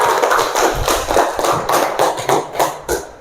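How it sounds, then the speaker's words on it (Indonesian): A classroom group claps for the first presenting group, a close burst of uneven hand claps in loose rhythmic pulses lasting a few seconds, with no talking over it. "Oke, tepuk tangan untuk kelompok 1"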